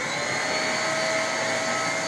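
A Shark NV22L upright vacuum cleaner runs with a steady, loud whine and broad motor hiss throughout, with no breaks and no voices.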